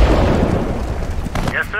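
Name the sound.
artillery fire explosions in a war video game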